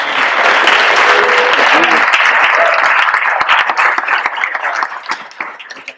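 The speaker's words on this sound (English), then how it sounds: "So can you give him a round of applause?" An audience in a collecting-convention room breaks into loud, dense applause, steady for several seconds before thinning out into scattered claps at the end.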